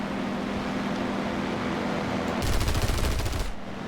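Aircraft machine guns fire in War Thunder from a Fw 190 F-8 fighter, a dense one-second burst of rapid shots cutting in over steady engine drone, then the drone carries on alone.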